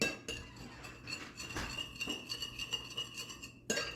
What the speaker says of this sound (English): so now I just want to give this a quick mix together